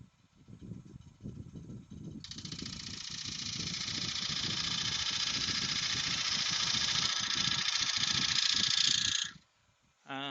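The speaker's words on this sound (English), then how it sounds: "let the lathe get up to speed" A wood lathe fitted with an eccentric chuck spins up to speed, its whirring hum rising after a couple of seconds and holding steady, then cutting off abruptly near the end; rustling handling sounds come first.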